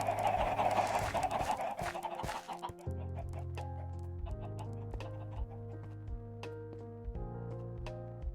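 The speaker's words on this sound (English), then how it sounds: "almost let the chickens out" Chickens cluck in the modded Minecraft game Project Ozone 3, bursts of clucking at first giving way to sparse clucks over steady game background music.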